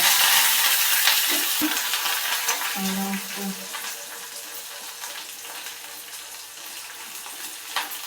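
Chilies and curry leaves hit hot oil while making a brinjal curry, a loud sizzle that bursts at the start and fades gradually, with a few clinks of a utensil, no voices.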